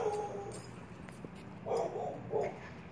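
Faint, high whimpers and short yips from Malamute puppies about four weeks old come in a few brief bursts over a steady background hum, in a yard.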